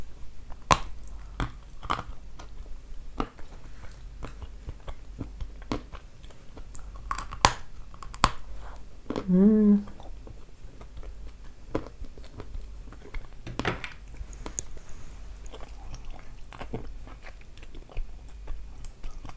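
Sticky, crunchy Kyrgyz candy is bitten and chewed close to the mic, giving a series of irregular crisp crunches and soft squishy bites in an otherwise quiet room.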